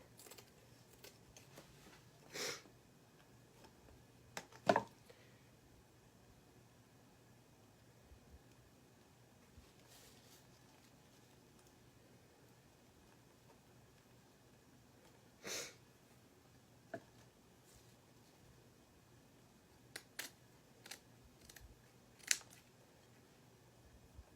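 Scissors trim moss in several short, scattered snips, each a crisp close click separated by long quiet gaps, with no voices.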